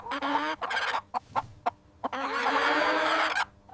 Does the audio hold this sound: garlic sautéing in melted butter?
no